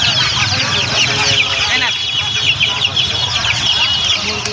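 Tiger-breed chicken chicks cluck and cheep densely at a busy village poultry market, a constant near chorus of many birds with background chatter.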